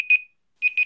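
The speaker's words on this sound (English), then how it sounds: "Oh, and there's my timer." Kitchen timer alarm going off during home sourdough pizza making, sharp electronic beeps in short bursts, one beep, a pause, then two more, close and clear with no talking.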